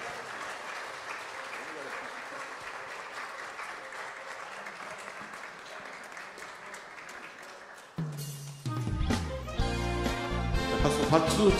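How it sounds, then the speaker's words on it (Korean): A church congregation claps along during a Korean Sunday worship hymn, with steady rhythmic applause at first and then loud band music with a singing voice taking over. "박수 치면서 같이 즐겁게 찬양을 들어보겠습니다"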